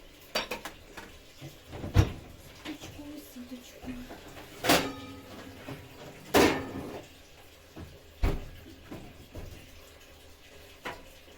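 A metal oven rack is pulled from a home oven while baking pizza, with several sharp metallic clanks and rattles spaced apart against quiet kitchen background.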